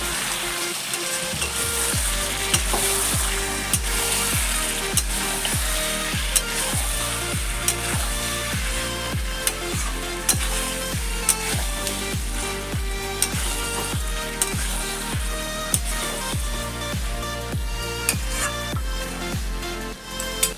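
Chicken curry meat frying in oil in a pot over medium-low heat, a continuous close sizzle with repeated sharp scraping strokes of stirring throughout, no voices.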